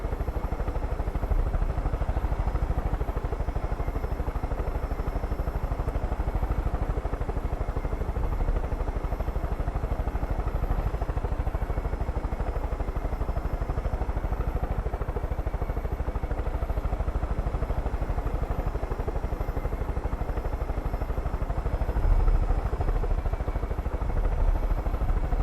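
Helicopter in the video game Far Cry 5, a continuous low rotor thrum and engine drone held at a steady level throughout, with no talking over it.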